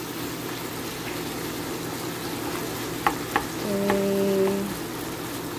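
Ground meat with carrots, green peas and beans frying in a pan, a steady low sizzle throughout with a couple of brief utensil clicks and stirring noises; a voice briefly speaks.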